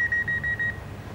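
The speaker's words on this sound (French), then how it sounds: "Un instant, le téléphone." A telephone rings with a single steady electronic trill, loud and close, lasting just under a second before cutting off.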